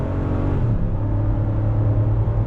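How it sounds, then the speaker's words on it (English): A 2020 Lexus GX 460 with a V8 and six-speed automatic accelerates under throttle, heard from inside as a steady, loud low engine drone whose pitch climbs slightly partway through, with no talking over it. "we're gonna see that V8 acceleration with the 6-speed on throttle"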